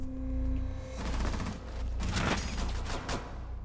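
Gunfire in the video game Rainbow Six Siege: a humming tone gives way to a loud burst of rapid shots, then a second dense volley, close and harsh.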